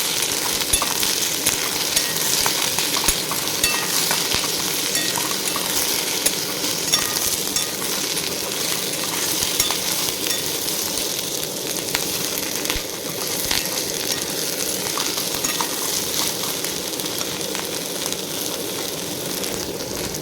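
Chopped onions and green chillies fry hard in a pan with potatoes, a loud, constant sizzle with occasional scraping and clinks from stirring throughout.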